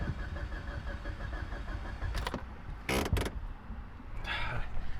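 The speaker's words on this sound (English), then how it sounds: "When this thing dies, it's such a pain in the ass to start." A stalled Mitsubishi Evo being restarted: several short, loud cranking bursts separated by pauses, then the engine catches and runs rough near the microphone, with no talk over it.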